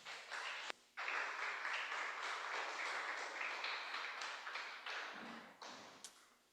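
A church congregation at a Spanish-language service claps steadily, a dense, even wash of applause that briefly drops out near the start, then tapers and thins toward the end.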